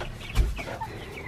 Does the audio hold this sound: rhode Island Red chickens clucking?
yes